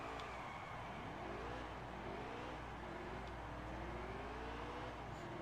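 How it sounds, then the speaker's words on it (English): Game racing truck in NASCAR Heat 3 doing a burnout, with a steady engine drone whose pitch rises and falls in repeated revs. It is continuous and moderately loud. "Oh yeah, we got to do a burnout."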